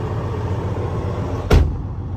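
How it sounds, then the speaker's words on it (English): Diesel engine of a 2012 Freightliner Cascadia with a DD15 and 13-speed manual idling close by, a steady low throbbing hum broken by one brief sharp burst near the end. "I find it's usually best not to talk when we're around the engine. It's just too noisy."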